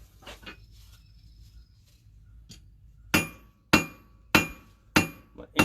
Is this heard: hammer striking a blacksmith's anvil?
yes